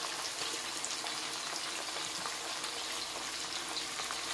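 Onion puree fries in oil in a pan with a soft, even crackle and bubbling that stays fairly quiet and steady throughout.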